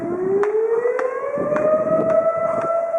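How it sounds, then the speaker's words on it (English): A civil defense siren wails steadily near a house with a rain garden, its tone slowly rising over about three seconds, loud and sustained with no talking. "And we got a siren going."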